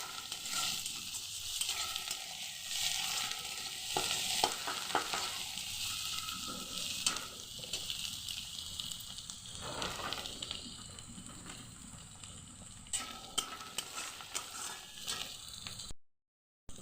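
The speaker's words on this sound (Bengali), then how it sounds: "একটু ভাজা ভাজা করে নেবো পেঁয়াজটা।" Onions frying in a pan, with steady close sizzling and frequent scraping stirs against the metal, continuing without speech until an abrupt cutoff near the end.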